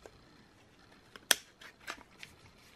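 Scissors snipping while making a washi tape doodle journal: one sharp, close cut stands out, followed by a few softer handling and paper rustles in a quiet room.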